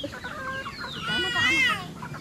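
Chickens cluck close by in a short burst at a grandmother's house, rising to a louder run of clucks midway.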